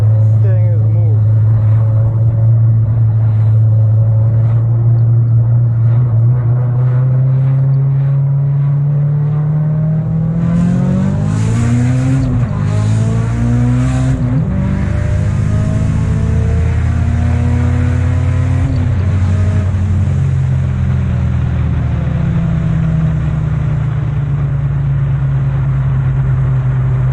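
A circuit-built Evolution 6 race car drives on a circuit: a steady, loud engine drone from inside the car rises into repeated revving climbs as it accelerates through the gears, then settles back.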